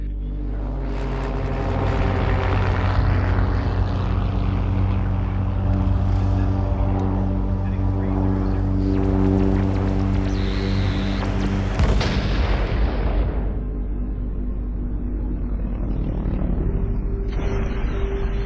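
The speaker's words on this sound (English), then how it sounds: "A mid-air collision between a small Mexican plane and a UFO." Plane crash sound effect of a mid-air collision between a small plane and another craft: a loud droning engine builds into a heavy boom and crunch near the middle, then a long rumbling tail, with no talking.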